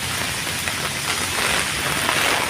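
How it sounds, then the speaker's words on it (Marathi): Heavy rain pours down steadily at a temple, a dense continuous hiss of drops striking surfaces close by, with no voices. "पाऊस एवढा जोरात आहे"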